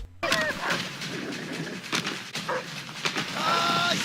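A dog in the video game A Way Out barks and yelps in short bursts amid scuffling and game effects, fairly close and loud, with no speech.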